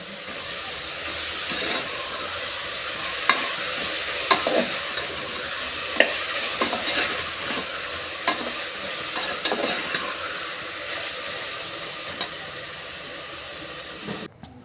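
Curd stirred into a frying tomato masala for vegetable green pulao, a continuous sizzle with repeated spoon scrapes and clinks against the pan over about fifteen seconds, no talking.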